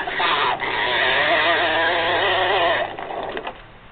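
A 1989 Mattel See 'n Say farm toy plays a loud, buzzy frog croak as a rapid warbling trill lasting about three seconds, followed by fainter mechanical clicks.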